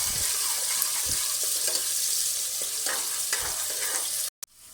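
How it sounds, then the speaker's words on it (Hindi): Chopped medium-size onion sizzles steadily in a hot pan, a continuous loud frying hiss with a few soft stirring knocks, ending abruptly. "3-4 मिनट इनको भूनने के बाद अब मैं इसमें चॉप्ड प्याज डाल दूंगी।"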